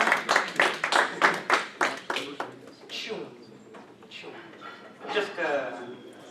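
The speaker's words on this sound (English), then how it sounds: "give her an applause" Several sharp, evenly spaced claps open the clip before fading into scattered softer ones, with voices speaking over the end, as a comedy-magic show audience welcomes a volunteer.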